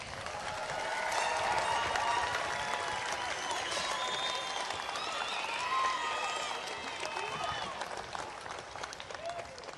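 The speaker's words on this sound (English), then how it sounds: "Audience, please join me in applauding all of these candidates for their academic" A commencement ceremony crowd applauds graduating candidates with dense, sustained clapping that fills a large hall, steady throughout with faint voices beneath.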